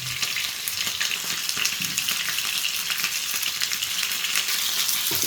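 Fish frying in a pan, a steady dense sizzle and crackle of hot oil running continuously at close range with occasional faint clinks, no talking.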